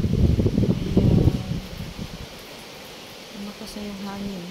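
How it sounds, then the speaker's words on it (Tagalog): Strong typhoon wind under Signal Number 8 roars across a Hong Kong rooftop. A loud, gusty rush at first eases into a lower, steady blowing. "Lumakas na yung hangin."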